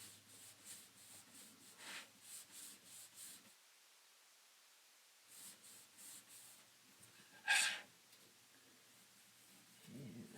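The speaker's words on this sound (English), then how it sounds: "Get a little wax. Rub it on." Wax is rubbed by hand onto a wooden tiered tray, working into the edges, giving soft repeated scrubbing strokes that pause briefly midway, then resume with one sharper scrape near the end.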